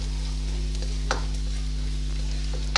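Cumin seeds frying in a pan for chicken and vegetable pasta, a steady close sizzle with a low constant hum beneath and a couple of brief scraping stirs.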